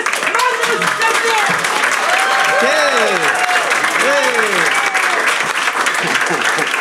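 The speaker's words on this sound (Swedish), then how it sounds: "Ge en stor applåd för Fredrik Andersson versus Magnus Bettner!" A large comedy-club audience applauds the roast battle comedians in a dense, steady wave of clapping, with cheering and whooping voices rising over it throughout.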